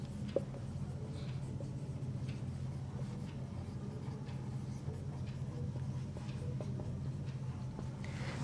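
Chalk or marker scratching on a board during a Class 9 physics lesson on motion, a soft, steady scraping with small ticks, faint under low room hum.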